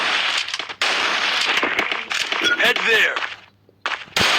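Bursts of gunfire in the mobile shooter Free Fire crack out in rapid clusters with short gaps between them, loud and close, while a player talks over the shots.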